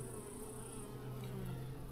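Honey bees crawl and fly into a hive entrance, a faint continuous insect buzz with a low steady drone and thin high whine, close but quiet, with no talk.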